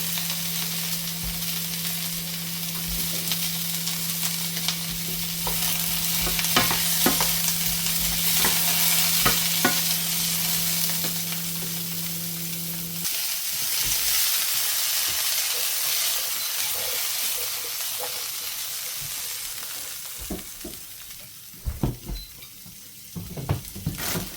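Cauliflower, broccoli and other vegetables stir-fry in a hot pan, sizzling loudly and continuously with frequent scraping and tossing sounds; a steady hum accompanies the first half, and the sizzle thins near the end.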